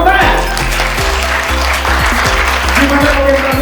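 Audience applause fills the room at a product soft launch for PT AMS Indonesia, a steady dense clapping that runs throughout, mixed with voices and a low tonal hum underneath.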